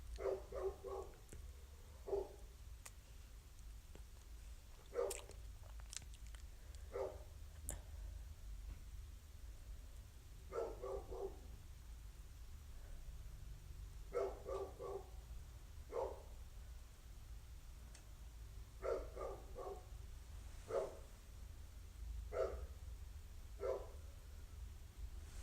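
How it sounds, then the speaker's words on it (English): A dog barks repeatedly in short clustered bursts, fairly distant and moderately loud, over a steady low background rumble. "Listen to that dog barking."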